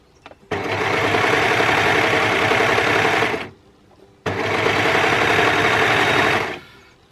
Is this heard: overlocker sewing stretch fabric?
yes